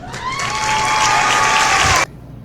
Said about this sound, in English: I added some kind of like celebratory clapping effect